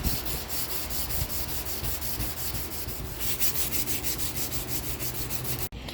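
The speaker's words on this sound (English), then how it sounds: "So now time to hand sand them again and get them ready for their etching" Steel combat knife blades being hand sanded, continuous close scratchy rubbing strokes in a steady back-and-forth rhythm with no speech, cutting off briefly near the end.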